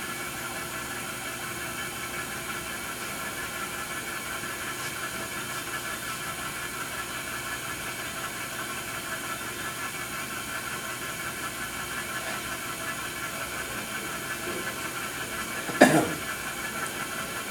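A Semitool ST-460 spin rinse dryer spins at low RPM, giving a steady, even mechanical hum with airy hiss that holds constant throughout, then a single brief knock near the end.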